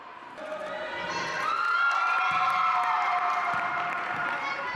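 A small crowd cheers at a wheelchair basketball game in Sana'a, Yemen's capital, with steady shouting and whistling that builds after the first second, plus occasional court thumps beneath.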